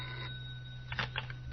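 A telephone rings in rectory living quarters, a short burst of bell ringing over a steady low hum.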